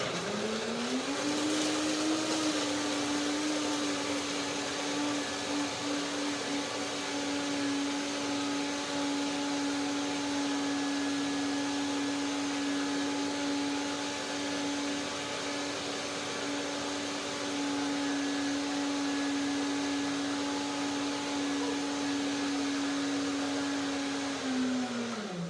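A kitchen blender blending bananas and strawberries with a small splash of water for a strawberry cream pie, a steady, droning motor whine that rises at the start, holds evenly for about twenty-five seconds, then winds down.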